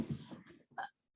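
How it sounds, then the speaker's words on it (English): A single person's hiccup, a short close vocal catch following a brief breathy murmur, quiet and otherwise alone. "I got the hiccups."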